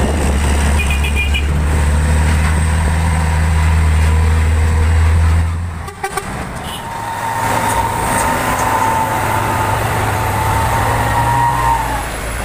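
A Fuso trailer truck and a tanker truck labour up the steep Bukit Korok hill, giving a continuous low engine rumble that holds steady, dips briefly, then resumes somewhat further off.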